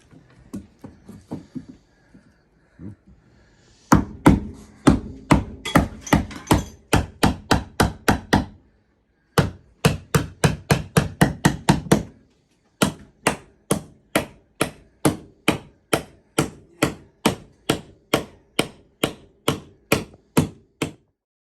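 Steady hammer blows striking wood blocking under a rotten mobile home floor in quick bursts, dozens of sharp, close knocks in even rhythm with brief pauses between runs.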